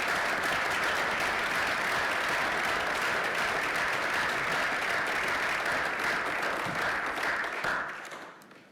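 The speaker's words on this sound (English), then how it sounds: "Let's give them a round of applause." A board of regents meeting audience applauds after a presentation: sustained, moderately loud clapping from a roomful of people that stays even for most of its length, then tapers off and stops near the end.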